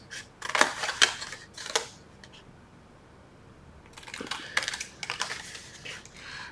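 Paper box stock is cut along score lines with scissors or a blade, giving quick, crisp clustered snips in two bursts separated by a short quiet pause, close and clear with no talking.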